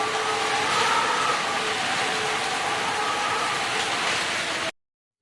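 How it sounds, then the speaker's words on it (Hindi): Steady rain in Lahore pours in a dense, even wash of pattering noise that holds at constant loudness for several seconds, then cuts off abruptly. "बारिश का शोर और इसकी आवाज़ इतनी अच्छी लग रही थी, और टिप-टपा रही थी"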